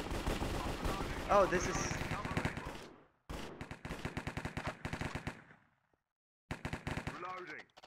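Rapid bursts of automatic gunfire from Minecraft Cops and Crims on the Hypixel server crackle loudly in repeated volleys, with brief silent gaps between them, while a player talks excitedly over the shooting.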